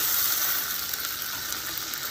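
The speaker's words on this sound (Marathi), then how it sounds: "मी इथे थोडेसे पाणी ह्या फोडणीमध्ये टाकणार आहे" Water poured into a hot phodni tempering with curry leaves for besan dhokla gives a steady, close hissing sizzle that softens slightly over two seconds, with no talk.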